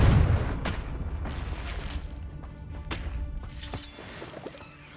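The Confringo blasting spell in Hogwarts Legacy sets off a loud burst at the start, followed by several sharp cracking impacts and crashes that fade under a lingering rumble.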